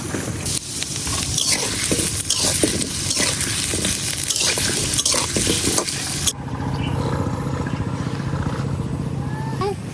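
Sweet pumpkin pieces frying plain in oil without spices, a dense loud sizzle with stirring clatter that suddenly drops to a quieter, thinner frying hiss partway through.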